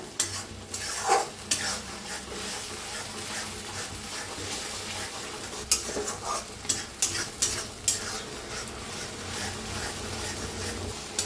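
Potatoes roasting in oil for dum aloo, a steady close sizzle with frequent stirring scrapes and a few sharper clinks, sustained throughout with no talking.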